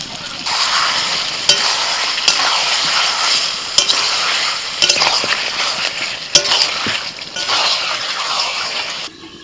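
Chicken fries with spices in a pan while it is stirred, producing a loud, steady sizzle close by. Spoon scrapes and clinks on the pan break in at intervals.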